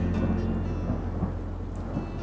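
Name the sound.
rain with thunder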